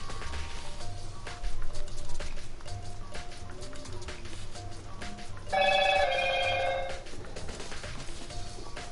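A phone ringtone sounds during a Danganronpa game session, a bright tonal ring with stacked harmonics rising loudly for about a second and a half over faint game music and background noise.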